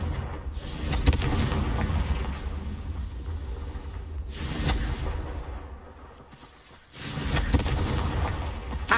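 Confringo fire spell blasts in the Hogwarts Legacy video game, three loud booming explosive bursts with rumbling tails, spaced a few seconds apart and heard alone.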